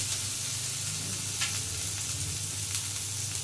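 Spice paste frying in oil for a Bengali bhola fish jhal, with water poured in, gives a steady close sizzling hiss over a low rumble of the stove, continuous throughout with no talking.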